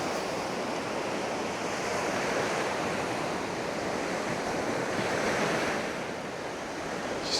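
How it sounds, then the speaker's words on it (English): Ocean waves crash and wash onto the shore near Camping Torre de la Sal, a continuous close surf roar with gentle swells and some wind buffeting the microphone, no voices. "there's something very calming with waves just crashing on the shore"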